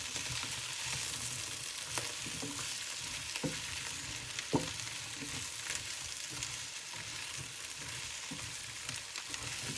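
Okra and chopped tomatoes sizzle steadily in a pan for an okra and tomato curry, with a utensil scraping and stirring through them in scattered soft clicks over a continuous frying hiss.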